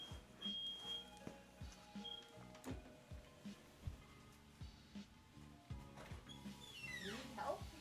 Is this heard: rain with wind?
no